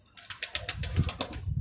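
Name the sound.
pigeon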